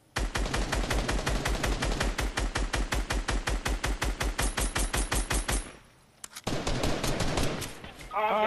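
Rapid automatic gunfire rattles out in a dense, steady stream of loud shots during a video game firefight, cutting off briefly before another burst resumes; a sniper is present but the sound is mostly fast repeated fire.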